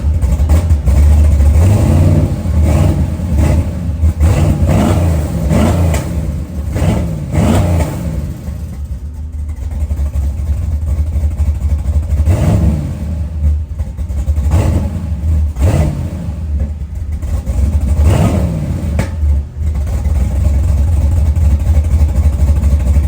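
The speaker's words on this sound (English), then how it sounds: "I started up the truck because I haven't had it run in a pretty long time." A Chevrolet S10 street truck engine starts and revs repeatedly, loud and close, with rising and falling throttle bursts over a steady low idle rumble and no talking.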